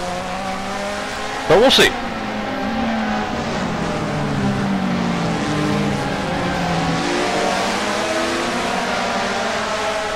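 Race cars roaring past at Interlagos in a racing video game, a sustained engine drone with a brief sharp burst early on, running steadily under a commentator's talk.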